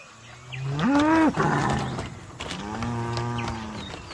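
A water buffalo (carabao) that pulls a cart lows twice, close and loud. The first call is long and rising and the second is lower and drawn out, with no speech.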